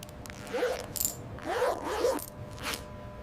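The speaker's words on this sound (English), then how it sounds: "Ultimate perfectionism adjusts zipper, ensuring fluid movement and artistry." A zipper on a leather wallet is tugged in a few short, scratchy pulls, with brief pauses between them and a light metallic clink, close and fairly quiet.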